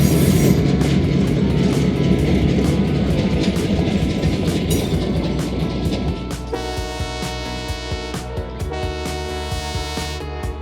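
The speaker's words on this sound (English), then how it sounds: "I think we're gonna get to see this train going by." A train rolls past nearby, its loud rumbling wheels and rail noise giving way to sustained horn-like tonal blasts in the second half, with no talking.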